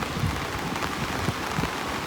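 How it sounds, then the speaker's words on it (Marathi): Steady, dense rain hisses without a break, a broad wash of falling water with no voices. "पाऊस प्रचंड पडतोय भरपूर"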